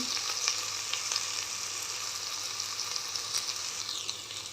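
Okra fry sizzles steadily in a pan with coriander and mint, a continuous close hiss and crackle with no talking.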